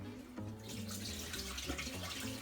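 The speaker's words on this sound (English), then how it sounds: "Now we drain the water off of our potatoes." Cooking water pours off boiled potatoes into a sink, a steady splashing gush running close and fairly loud for the whole stretch with no talk over it.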